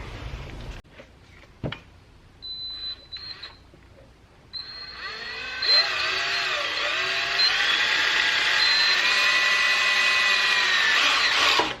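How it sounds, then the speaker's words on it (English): A power drill whines close by, starting with short bursts and then running in a long, loud, high-pitched grind as it bores through material, drilling holes for a cold air scoop on a Nissan Skyline GT-R. "I got the holes drilled now"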